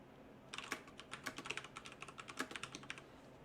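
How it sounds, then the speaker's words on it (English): Typing on a computer keyboard, a quick run of light, close clicks at an irregular pace, quiet and alone with no talking. "I hit the backspace key, and now my line is gone."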